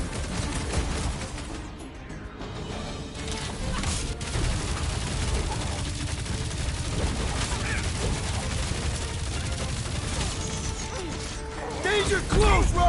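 Rapid, dense gunfire and mechanical clatter in the video game Guardians of the Galaxy, continuous and loud across the whole stretch, mixed with a busy combat din.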